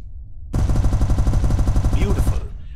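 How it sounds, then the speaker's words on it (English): Turret weapons fire in the space combat video game SpaceBourne 2, a loud, steady rapid stream of repeated shots that starts abruptly and runs for about two seconds over a low engine-like hum. "Now activate your turrets weapon group."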